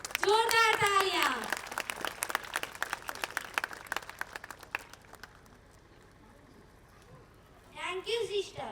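Audience applause at a school annual function at St Mary's School, Baijalpur, a steady patter of many hands clapping for several seconds between stretches of someone speaking through a loudspeaker, then thinning out.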